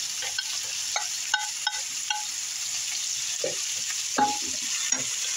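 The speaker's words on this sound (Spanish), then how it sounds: "Ya tengo un poquito frita la calabacita. Voy a agregarle las demás verduras." Zucchini and other vegetables fry in a pan with a soft, steady sizzle, broken by occasional light clinks and scrapes from stirring.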